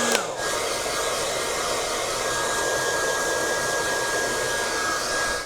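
A Yoole S+ hair dryer blows steadily at a loud, high setting, a constant broadband whoosh with a faint whine, running alone without pause.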